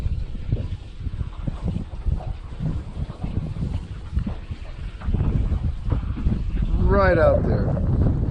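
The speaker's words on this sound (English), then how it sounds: "Oh, I wish this wind would let up" Strong wind buffets the microphone outdoors during trout fishing in Pennsylvania, a continuous low rumbling roar with gusts, while someone talks over it.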